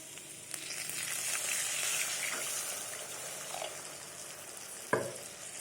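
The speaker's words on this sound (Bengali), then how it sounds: "তো আমি আমার মতন জল ঢেলে নিয়েছি" Water splashes into okra and potatoes frying in oil in a hot pan, a steady sizzle and bubbling hiss with a short sharp clatter near the end.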